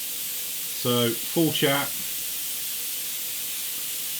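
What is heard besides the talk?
spraying thin acrylic paint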